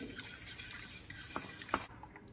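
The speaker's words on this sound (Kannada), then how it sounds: "ಈ ರೀತಿ ಹಿಟ್ಟನ್ನು ಇದಕ್ಕೆ ಹಾಕ್ಬಿಟ್ಟು ಕಲಸಿ" Wheat flour being mixed into a pot for godi rotti, heard as a close, steady scraping stir with a few spoon knocks against the pot, briefly and without talking.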